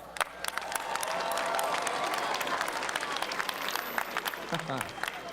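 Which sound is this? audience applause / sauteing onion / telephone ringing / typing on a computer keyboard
audience applause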